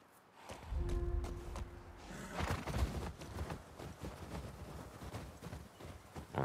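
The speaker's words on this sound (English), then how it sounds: "Now we're taking the horses." Horse hooves clip-clop in The Last of Us Part II as horses are ridden, a close, rhythmic trotting that keeps going over low background noise and faint game ambience.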